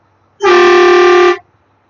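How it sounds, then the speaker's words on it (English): A single loud, steady truck horn blast sounds for about a second, bright and harmonically rich, then cuts off cleanly into quiet. "Then I'm going to go into my horns, electric for city, air horn for country."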